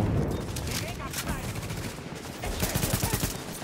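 Heavy gunfire from every direction in The Division, a dense, continuous fusillade of overlapping shots and bursts with a loud flurry near the end, while a player talks over it.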